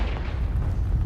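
A Confringo blasting curse goes off in the Harry Potter: Hogwarts Mystery game, a dense, rumbling explosion that fills the short moment with a steady low roar and no talking.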